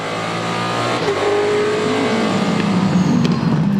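Porsche, Mazda and other GT race cars in a Supercar Challenge race at the Assen circuit, engines roaring and revving loud and close as the pack runs tightly together, with a steady, unbroken drone throughout.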